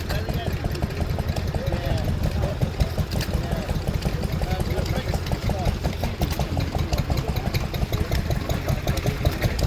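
A pre-war Austin tractor engine idles with a steady, rapid chugging knock, close by, while people talk in the background at a classic tractor show.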